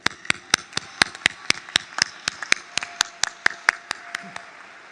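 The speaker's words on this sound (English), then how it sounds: "I'd like to give them at least my personal round of applause and would invite you to join me if you'd like." Single pairs of hands clap in a slow, steady rhythm, about twenty sharp claps spaced evenly, close and distinct with quiet gaps between them.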